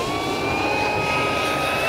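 Draco 2.0 m RC airplane flying past, a steady whining motor tone with a slowly rising pitch over a broad, even rush, heard alone.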